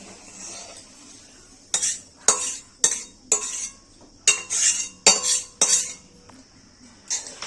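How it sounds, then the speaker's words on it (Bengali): A metal spatula clanks and scrapes against a pan in about nine sharp, irregular strokes as fried ingredients are mixed into homemade fried rice, with a faint sizzle in the quiet gaps. "ভাজাটা আমি রাইসে মিশিয়ে নেব"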